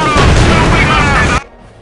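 A bundle grenade in Company of Heroes 2 goes off in a loud, close, harsh blast with a broad roaring burst lasting over a second before cutting abruptly to faint background.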